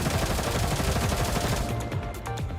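Weapon fire in the video game Girls' Frontline 2: Exilium pours out as a dense, continuous barrage with rapid rhythmic thumps, loud and close throughout the short stretch.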